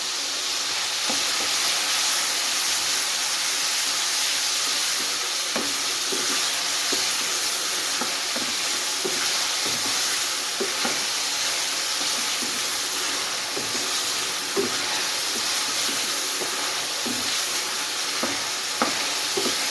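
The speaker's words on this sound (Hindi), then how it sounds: "तो अब इसमें अदरक लहसुन का पेस्ट भी ऐड कर देंगे।" Ginger-garlic paste sizzles steadily in hot oil in a karahi while Afghani chicken karahi is cooked, with a continuous close frying hiss and occasional stirring scrapes throughout.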